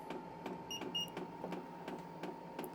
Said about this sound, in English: So now it's starting to rev up.